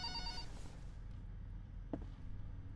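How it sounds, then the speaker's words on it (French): A telephone rings in the Five Nights at Freddy's video game, a faint repeated bell at the start that fades out, followed by a quiet low game hum and one soft click. "Le téléphone sonne, mais je peux rien faire."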